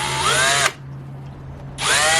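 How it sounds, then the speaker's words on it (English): A power drill drives a small countersunk screw into a wooden furniture stretcher during a joint repair, with two loud close whirring bursts, the motor pitch rising as each starts, separated by a short pause. "I'm going to run a screw into this stretcher"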